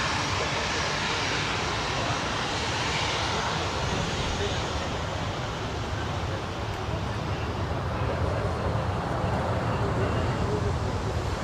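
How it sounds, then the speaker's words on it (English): Qantas 28 airliner arriving from Santiago, landing on runway 16 left at Sydney Airport, heard as a steady, broad engine roar and rushing air that holds fairly constant throughout at moderate distance. "There is the Qantas 28 service coming in from Santiago."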